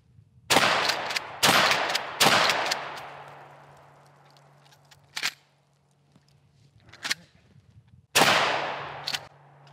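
A pump-action shotgun fires a hand-loaded round: loud, sharp blasts ring out, some several in quick succession near the start and another later, with the pump action clacking between them and long ringing decay.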